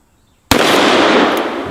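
A single deafening gunshot from a Smith & Wesson .460 XVR Magnum revolver fired outdoors at a 2-liter bottle cracks out after near silence, followed by a long, rolling echo that fades slowly.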